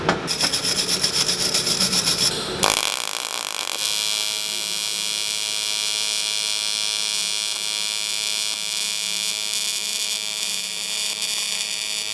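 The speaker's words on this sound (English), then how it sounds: "This is going to take a long time to do all these pie cuts." Saw cutting pie cuts in metal intercooler piping for a twin-turbo Nissan 350Z build, a loud, close, rasping cut for about two seconds, then a steady electric whine and hum that continues to the end.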